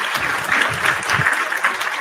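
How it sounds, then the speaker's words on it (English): Steady round of applause from an audience, dense continuous clapping at a moderate distance lasting throughout, with no voices over it. "let me give you a round of applause, man"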